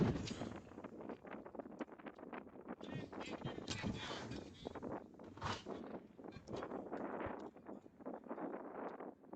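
Gusty wind buffets the microphone at an outdoor high school baseball game, with irregular rough bursts and rumbles rising and falling throughout, fairly faint overall.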